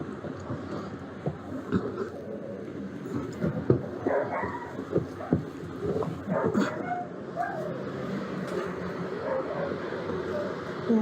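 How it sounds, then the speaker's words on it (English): A pet dog kept in a back room of a house barks, yips and whimpers intermittently at moderate distance, mixed with faint muffled voices and household background noise. "We have to keep our dog back here."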